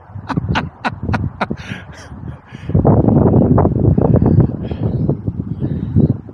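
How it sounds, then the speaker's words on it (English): Strong wind gusts buffet the microphone at a canal basin in late January, loud rumbling bursts that come in short pulses and then a sustained roaring blast, heard alone. "It is a windy day."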